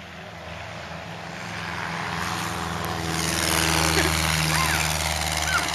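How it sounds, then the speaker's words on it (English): A Piper Cherokee propeller plane comes in to land, its engine drone swelling steadily louder as it nears, a continuous buzzing hum with no words spoken. "I got that plane landing."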